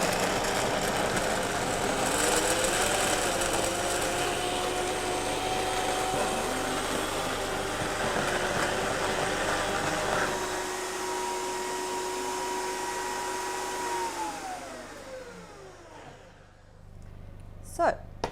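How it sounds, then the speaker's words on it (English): Up close, a blender whirs steadily, grinding soaked cashews into smooth cashew cream in a raw vegan kitchen, its motor pitch shifting slightly before winding down and stopping near the end. "We just need to blend it all the way until it's nice and smooth."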